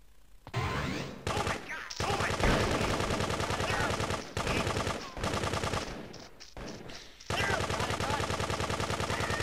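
Gunfire in Grand Theft Auto 2, with loud, sustained automatic bursts in several long volleys separated by brief gaps, close and dominant.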